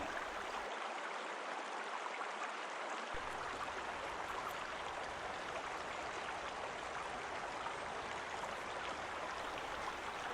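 Water runs steadily at a bend in a river, a continuous soft rushing flow with no voices over it.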